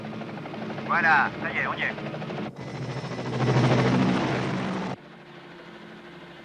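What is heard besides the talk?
helicopter flying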